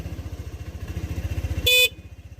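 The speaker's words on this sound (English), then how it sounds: "Sound of the horn." A Lexmoto Aura motorcycle's horn gives one short, bright beep over the close, rhythmic chug of its idling engine, which keeps pulsing afterward.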